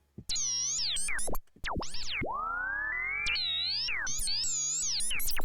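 Serum synth preset Random Noise 2 produces chaotic sweeping laser-like tones that leap, bend and warble in rapid pitch jumps, with one brief cut near the start, loud and continuous with no other sound.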